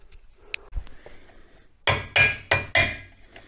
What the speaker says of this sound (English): I'll just get a little hammer and just give it a tap